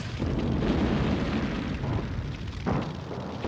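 Dense, rumbling artillery explosions from the Sudden Strike war strategy game, a continuous roar of booms with a sharper blast near the end and no voices.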